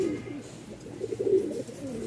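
A male white lakkha fantail pigeon in full breeding mode coos close by, a low, throaty burbling call repeated in quick pulses with no other sounds over it.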